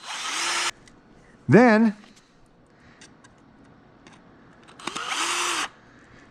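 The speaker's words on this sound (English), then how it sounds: "Gonna get a couple screws and the screw gun. We're gonna go ahead and run it in here first." A screw gun drives screws into a wooden deck chair in two short, loud whirring bursts separated by a few quiet seconds, with a brief spoken word in between.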